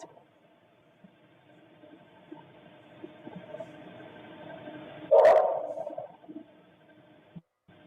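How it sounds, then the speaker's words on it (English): A dog barks once, loud and close, from a recording played back, following a stretch of low background noise. "Who would let this dog bark for almost a whole hour?"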